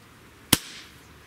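Single sharp crack of a Benjamin EB22 compact air pistol with a short barrel firing one shot, close and isolated, with a brief fading tail against a quiet background.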